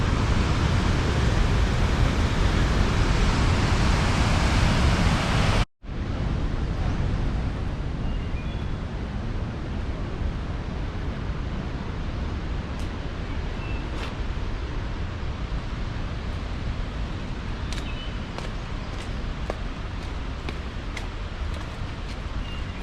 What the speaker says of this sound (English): right over there is another little mini waterfall